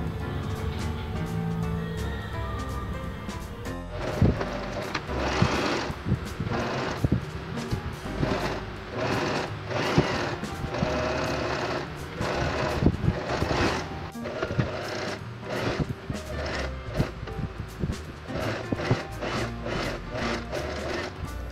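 Sewing machine stitching a lined blouse, with a steady mechanical whir and a regular series of stitching bursts after a quieter start, fairly close.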